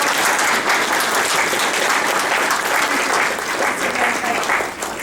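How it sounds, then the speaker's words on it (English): Loud, sustained audience applause at an Indian-American political community event, a dense steady wash of many clapping hands throughout. "we will just give him an applause and say thank you"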